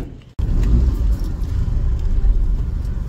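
A 2022 Maruti Suzuki Wagon-R hybrid CNG car starts moving after a brief quiet moment, giving a steady, close engine and road rumble with slight revving throughout.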